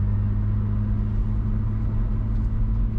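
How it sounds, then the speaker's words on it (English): A skid car rolls along the road with a steady, low engine drone and rumble from inside the cabin, constant and fairly loud, with no talking. "This is my skid car."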